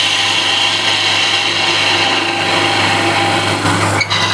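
A woodturning lathe takes light, careful cuts in very hard, dense timber, giving a steady, continuous motor whir with a faint scraping of the tool against the spinning wood throughout, with no talking.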